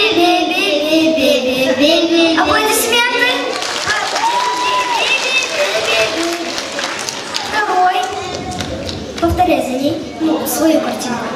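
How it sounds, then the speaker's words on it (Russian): Audience applause at a children's and youth creative arts festival, loud clapping mixed with children's voices and chatter, sustained throughout with speech over it. "Аплодисменты!"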